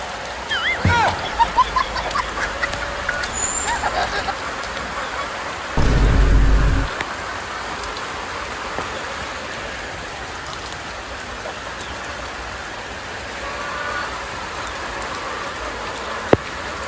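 Steady rain patters throughout, with a low rumble of thunder in the middle; faint voices are heard early on.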